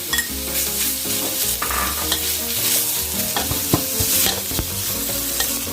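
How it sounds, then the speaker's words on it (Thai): Pork belly frying and sizzling in a pan with no oil added, steady crackle with stirring scrapes throughout, close and fairly loud, no talking. "จะใส่หมูสามชั้นลงไปก่อน"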